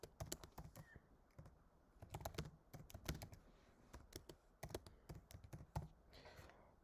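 Someone typing the name of a school into an online form on a computer keyboard, a quick, uneven run of close, crisp key clicks with short pauses.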